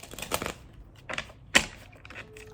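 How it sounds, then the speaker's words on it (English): White Sage Tarot cards are shuffled by hand in a few short, crisp riffling bursts close to the microphone, separated by quiet gaps, with no talk. "I will now shuffle the White Sage Tarot and draw cards for my Gemini"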